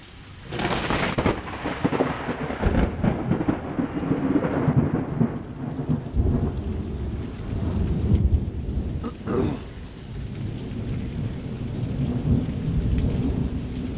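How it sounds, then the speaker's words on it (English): Heavy thunderstorm at night with a downpour of rain roaring steadily and deep rolling thunder rumbling through, loud and continuous with no voices. "having a gully washer, lightning, heavy thunder, great balls of fire."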